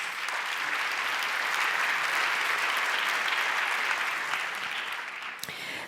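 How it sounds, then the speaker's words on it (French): An audience at an innovation forum on AI in Africa applauds in a steady, moderately distant roar of clapping for several seconds, thinning out near the end, with no talking. "vous pouvez l'applaudir"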